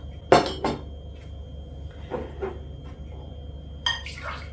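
Ingredients for börek being added to a kneading bowl, with sharp clinks and knocks of a container against the bowl. A few clustered taps come early, softer ones follow in the middle, and another clink lands near the end over a quiet kitchen hum.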